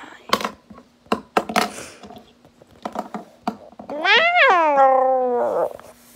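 Clicking and tapping noises, then a voice imitates a long drawn-out cat meow, close and clear.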